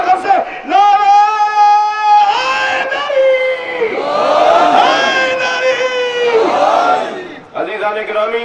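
A large gathering at a religious majlis in Nishter Park chants slogans in unison, loud sustained voices rising and falling together in long drawn-out calls, close and forceful.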